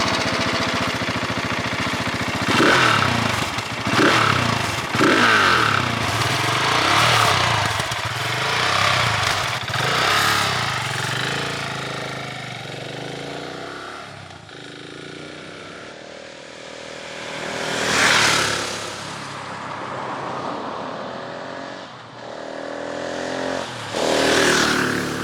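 A Husqvarna 701 motorcycle with its stock exhaust, the single-cylinder engine idling and then revving in several loud rising and falling surges, close by and continuous, with no talking.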